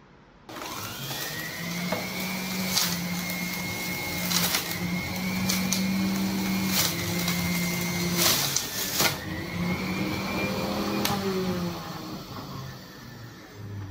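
A Geepas 4 in 1 juicer blender runs steadily while juicing an orange, a close, continuous motor whine with a low hum and small shifts in pitch as the fruit is pressed, with a few brief clicks along the way.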